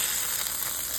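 Taco shells fry in hot oil with a dense, steady crackling sizzle, close and even throughout and without any voices.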